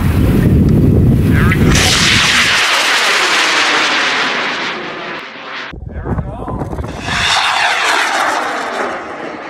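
A student rocketry club rocket launches with a loud, close, sustained roaring rush that holds for several seconds, breaks off briefly, then returns as a broad hissing roar.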